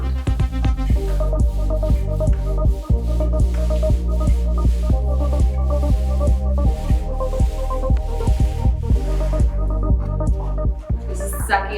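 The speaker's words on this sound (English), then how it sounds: "It's a auto paint feeder. Sends paint through the tubes straight to the roller" An auto paint feeder pumps paint through tubes to a roller in a garage, giving a steady throbbing hum with rapid rhythmic pulses and squishy clicks throughout.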